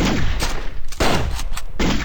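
Rapid gunfire from the video game Raze 3, loud sharp bursts of shots repeating in quick succession with short gaps, close and alone without talk.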